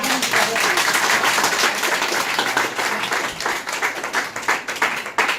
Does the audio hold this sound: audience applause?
yes